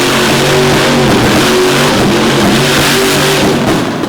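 Mr. Excitement monster truck's engine roars loud and close, revving steadily and unbroken as the truck drives back into the pits after a Monsters 'N' Megas show run, with no voices over it.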